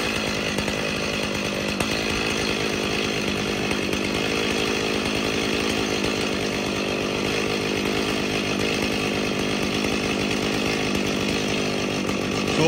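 A Stihl chainsaw engine runs rough and uneven, a loud continuous close-up drone with slight surging and no voices over it.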